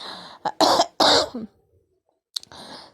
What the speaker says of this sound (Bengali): ভীষণ আসলে কাশিটা হয়েছে